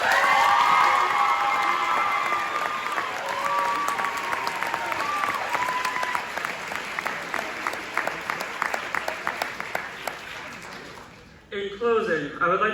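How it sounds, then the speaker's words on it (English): Graduation convocation audience breaking into applause, a dense wash of many hands clapping that carries on steadily before tapering and cutting off near the end, with a few voices mixed in. "I would like to encourage my classmates to take this moment to offer these people a round of applause."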